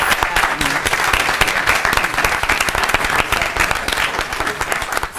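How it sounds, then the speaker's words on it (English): Dense, steady applause from an audience at a school district board meeting, loud and continuous for several seconds with no break, the claps blurring into one sustained wash. "get a round of applause for these students?"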